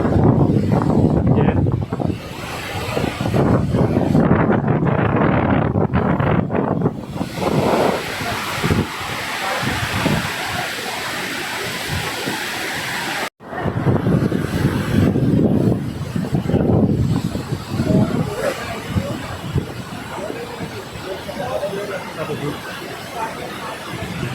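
Vasudhara waterfall near Badrinath, with water dropping from high above. A continuous, loud rushing roar mixed with wind buffeting the microphone runs throughout, with a voice talking over it.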